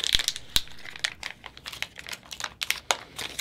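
A chem key package wrapper is peeled down and torn open for an SL1000 portable parallel analyzer, a close, dry crinkling with a few sharp crackles spread over a few seconds, heard alone.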